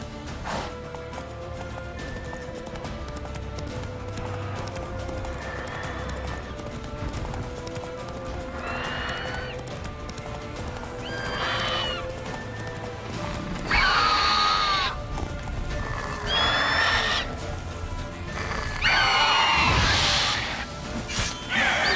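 Roach the horse gallops in The Witcher 3, rapid clip-clop hoofbeats continuing loudly throughout, with several neighs and whinnies breaking through in the second half over game music.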